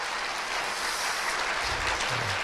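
A congregation at a church opening worship service breaks into warm applause, a steady wash of clapping from many hands filling the room for a couple of seconds.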